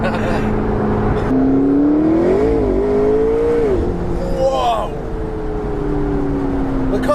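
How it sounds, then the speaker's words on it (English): A blue McLaren 650S Spider accelerates hard, its engine note climbing and wavering loudly up close before settling into a sustained roar, with an excited voice exclaiming over it. "The car took off."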